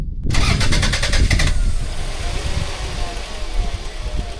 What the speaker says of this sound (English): Also, the car doesn't start the best.